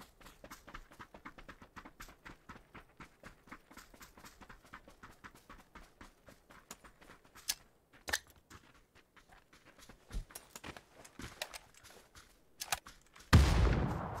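Gunfire in the battle royale shooter PUBG on the Taego map, a long run of sharp close shots and clicks with a louder burst near the end.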